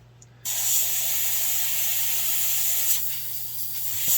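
An airbrush hisses steadily as it sprays paint onto a Chevelle model car, starting abruptly and holding a continuous close airy spray for several seconds.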